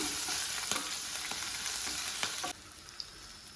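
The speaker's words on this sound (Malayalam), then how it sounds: "ചെറിയൊരു കഷ്ണം ഇഞ്ചി വരുന്ന വെളുത്തുള്ളി ചേർത്തിട്ട് രണ്ട് പച്ചമുളക് വഴറ്റി കൊടുക്കാം" Garlic, ginger and green chillies sauté in a pan for chicken varavu, a close steady sizzle punctuated by a series of sharp spatula clicks and scrapes, then the frying drops quieter for the final second; no speech.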